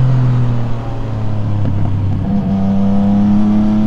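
A Yamaha MT-09 SP motorcycle pulls hard on a scenic Eifel road, its engine note climbing in steady rising tones under a loud, close drone with a brief gear-change dip, no talk over it.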